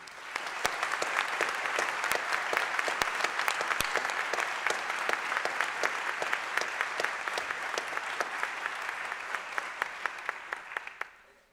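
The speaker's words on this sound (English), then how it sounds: "Please join me in a round of applause for this exceptional student." Sustained applause from a sizable crowd at a university honors and awards ceremony, steady and dense throughout with a few sharper claps standing out, fading at the very end.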